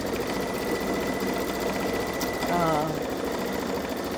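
A Babylock Solaris Vision embroidery machine stitches a Christmas train design, its steady rapid whirring and needle chatter running continuously and close, with a brief voice rising over it partway through.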